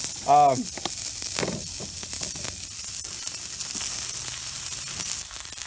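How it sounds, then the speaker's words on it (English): Leftover burgers fry in a cast iron pan with a steady, close sizzle. A brief chirpy squeak sounds near the start, and spatula nudges come now and then. "I'm going to throw them on there and we will fry some of these guys up"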